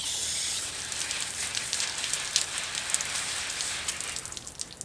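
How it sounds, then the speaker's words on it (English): A garden hose sprays water onto plant leaves to knock off aphids and spider mites, a dense, steady hiss and patter like rain on foliage, close and continuous without pause. "We'll pop it with a hose here."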